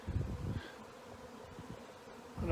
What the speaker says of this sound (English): you can just see the sky is just covered with bees right now.